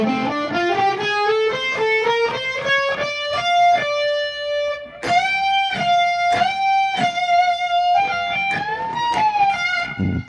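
Overdriven electric guitar climbs chromatically in a rapid series of picked notes, then settles into sustained, vibrato-tinged bends to close the solo, loud and alone.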